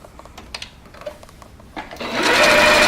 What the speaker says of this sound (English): you're just going to stitch right along this line